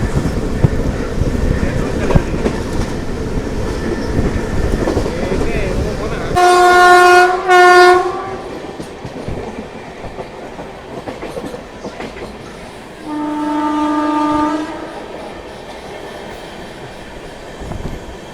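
A 12717 Ratnachal SF Express with LHB coaches passes at a station, sounding two loud horn blasts in quick succession and then a longer horn later, over the rumble and clatter of the train.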